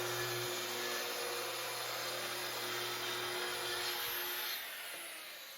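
Power driver screwing boards into an interior wall of a treehouse, a steady whining motor drone held for several seconds that winds down near the end, with no talking.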